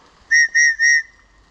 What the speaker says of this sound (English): top survival whistle, and I just have it hanging